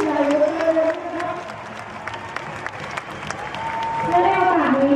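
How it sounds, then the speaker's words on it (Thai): Audience applause at the 42nd national games ceremony in Suphanburi, a crowd clapping while an announcer's amplified voice talks over it, swelling again at the end. "ผมขอเสียงปรบมือให้กับสุดยอดที่สุดอีกครั้งหนึ่งเลยครับ"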